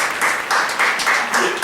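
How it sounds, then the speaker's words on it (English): A short burst of clapping from a small group, coming in uneven waves before fading. "Let's give ourselves a round of applause."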